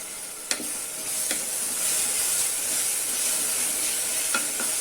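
Tomatoes sautéing with onions and curry leaves for Salem mutton masala gravy, a steady close hiss with a few spatula taps.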